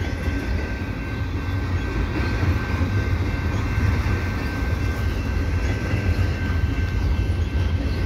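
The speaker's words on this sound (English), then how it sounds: "a double stack freight train" A double stack freight train rolls steadily past at Ile Perrot, a loud continuous rumble of wheels and rail noise with a faint high whine, filling the whole stretch without pause.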